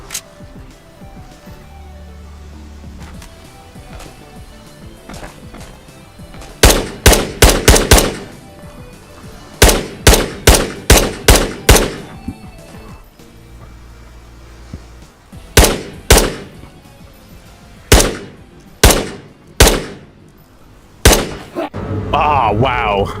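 Video game gunfire in Ghosts of Tabor, several clusters of rapid shots in bursts separated by pauses, loud and close, ending in a final headshot, with quiet talk and ambient noise between volleys.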